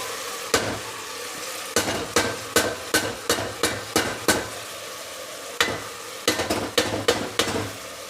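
Ground green chili, coriander, mint and ginger paste being stirred into tomatoes in a pan, a spoon knocking against the metal in repeated sharp strokes over a steady frying sizzle.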